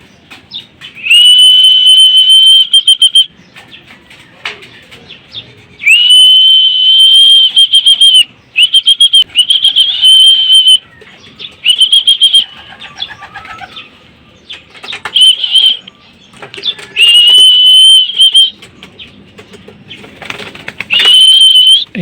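A loud, shrill whistle calls racing pigeons home, sounding in repeated long blasts and short bursts separated by pauses, with faint cooing and wing flaps in the gaps.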